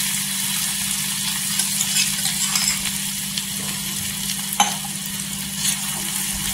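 Crushed garlic and green chili sizzle steadily in hot frying oil for vada pav, a loud, even hiss with occasional small clinks and pops, no voices.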